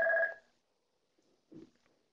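An office telephone rings in the background, heard as a single short electronic tone at the start. It is faint and followed by near-silence and a brief soft thump.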